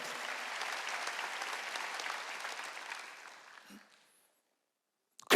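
A congregation applauds during a Wednesday worship service at a Korean church, steady clapping for about three and a half seconds that fades out, then silence and a brief loud noise at the end.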